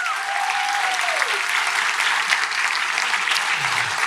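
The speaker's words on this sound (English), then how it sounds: "Yes, let's give a round of applause for that." A round of applause from an audience at a storytelling event, dense steady clapping held at an even level throughout, with no voices over it.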